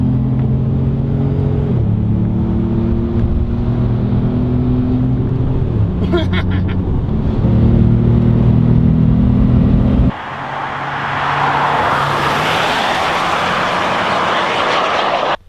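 A Ford pickup-based rally car drives hard, its engine note climbing and dropping through gear changes with strong harmonic tones, then giving way near the end to a louder rushing roar of wind and road noise.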